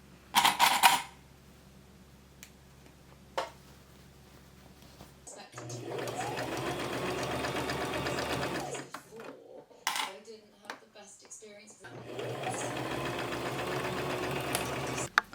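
Serger sewing machine with a fault stitching a tablecloth into a dress, running in two long whirring bursts separated by clatter and handling sounds.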